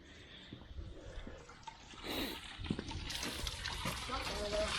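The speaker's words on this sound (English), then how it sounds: "you can rinse all that junk out of there" Water runs and splashes while rinsing muck out of ATV wiring connectors at a barn find, a continuous rushing flow that grows louder toward the end, with a voice speaking over it.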